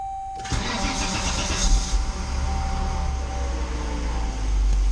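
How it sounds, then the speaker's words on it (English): A 1995 Volvo 960 engine, already warm, cranks briefly, catches, and settles into a steady idle with a constant high whine running throughout; no voices. "Let me start up the engine."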